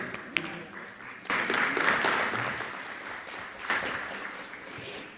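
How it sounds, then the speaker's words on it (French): An audience applauds the moderator being introduced at a Montreal panel session, a broad wash of clapping that swells up suddenly after a brief quiet start, holds steady, then surges again near the end. "On l'applaudit"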